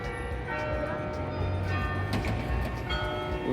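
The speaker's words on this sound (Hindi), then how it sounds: "चर्च में 11 बज गए तो घंटियाँ बज रही हैं।" Church bells in Amsterdam strike eleven o'clock near the Anne Frank House, a steady ringing tone sustained over dense street ambience with a faint voice now and then.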